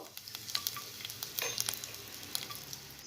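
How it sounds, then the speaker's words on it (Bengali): Grated coconut lightly frying in a little white oil in a pan, a soft steady sizzle with small crackles and pops scattered throughout, close and fairly quiet, with no talking. "নারকেলটা আমি একটু হালকা ভেজে নেব"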